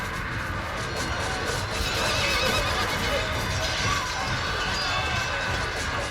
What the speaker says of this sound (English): I'm gonna try and sweep through them using my cavalry charge.